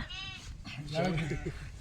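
A sheep bleats once on a village sheep farm where milking is under way, a short wavering call heard up close before people's voices take over and talk through the rest.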